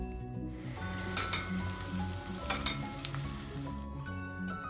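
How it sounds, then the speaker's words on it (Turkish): Garlic and tomato paste sizzle loudly in a hot pan, a close, continuous frying hiss with occasional stirring and spatter pops. "sarımsakları ve 1 yemek kaşığı domates salçası ilave ediyoruz ve biraz daha kavuruyoruz"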